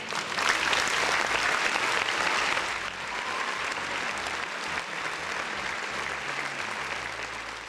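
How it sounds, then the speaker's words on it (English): Sustained applause from a crowd, a dense wash of many hands clapping at once that holds steady throughout and eases slightly toward the end. "Round of applause for the folks in the chat."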